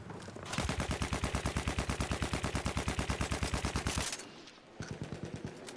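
Sustained machine-gun fire in the shooter game Battlefield 1, a fast steady burst of rapid shots lasting several seconds, then a pause and a shorter second burst, loud and close with no talking.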